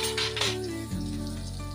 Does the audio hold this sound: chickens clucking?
no